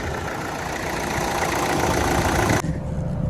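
An Opel 1.7 engine in an Astra J or Zafira B idles steadily and loudly up close, a constant broadband rumble with no voices, shifting slightly in tone near the end.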